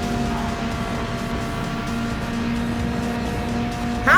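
Race cars at Daytona in a racing video game, including a Corvette and a BMW, a steady droning engine whine held at an even pitch and fairly loud throughout, ending in a sudden burst of noise, with no talking.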